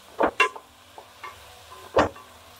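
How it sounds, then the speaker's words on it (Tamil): Banana flower sautés in a pan, heard as a handful of quiet, irregular utensil knocks and scrapes with only a faint sizzle behind them. "இப்போ வாழைப்பூ போட்டுடலாம். இது கொஞ்சம் நல்லா வதங்கட்டும்."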